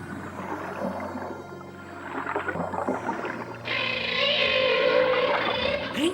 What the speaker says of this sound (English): Hey, there's another whale singing.